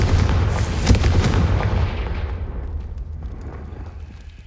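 A Confringo blasting spell explodes in the Hogwarts Legacy video game, a loud, heavy boom with crackling debris that rolls on and gradually fades away over several seconds.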